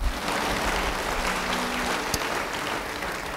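A church congregation applauds together, a steady, dense wash of clapping from many hands that holds evenly for a few seconds in a large room.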